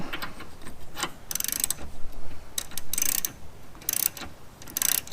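A ratchet socket wrench with a 3/4 socket snugs a front license plate screw on a Golf R, with short bursts of rapid metallic clicking repeating in a steady back-and-forth rhythm, close and clear.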